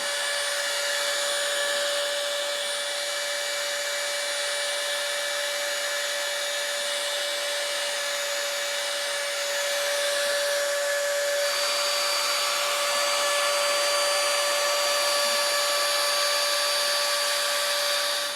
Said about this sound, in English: Let's get the CNC running and get these letters carved out.